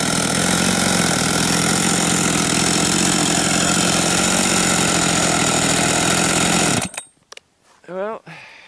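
A Husqvarna 272XP chainsaw idles loudly and steadily up close for several seconds, its engine drone constant, then cuts out abruptly, and a person begins talking in the quiet that follows.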